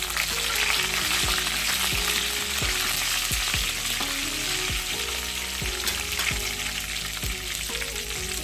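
Four cut green chillies fry in a pan of oil for capsicum rice with a loud, steady sizzle. Frequent spoon scrapes and clacks run through it in an irregular rhythm, and there is no talking.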